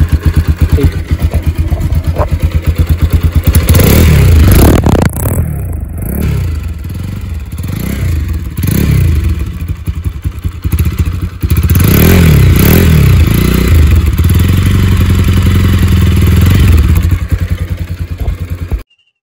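A Bajaj Pulsar 200 motorcycle engine, seized after rain flood water entered it, starts and idles loudly nearby, sputtering and clattering with occasional revs and scraping noises, no talk.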